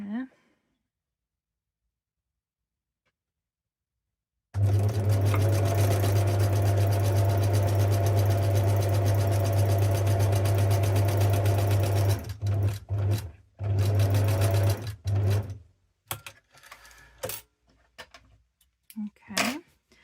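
A sewing machine stitches a fabric envelope with a back stitch, a close, loud steady whirring run of about eight seconds, then short stop-start bursts, with a voice talking near the end.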